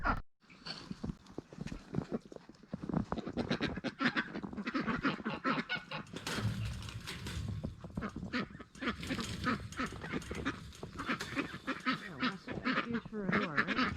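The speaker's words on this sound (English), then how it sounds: "Silly ducks. I'm gonna go back and play with your goose friends." A backyard flock of ducks and geese quacks and honks continuously and fairly close by, a busy overlapping chorus of calls with some shuffling and movement among the birds.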